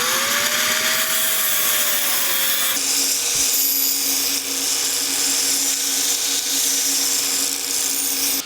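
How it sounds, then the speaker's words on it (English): A power drill whines into metal while a hole is bored, starting with a rising motor pitch, then shifting to a steady, grinding buzz that carries on evenly until the end, with no voices. "So I'm gonna take the drill."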